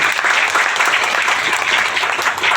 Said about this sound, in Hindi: एक जोरदार तालियां सर के लिए होनी चाहिए।